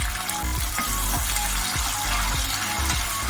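Ginger-garlic paste and chillies fry in a pan for chicken dum biryani: a dense, steady sizzle with regular low knocks and scrapes of stirring throughout.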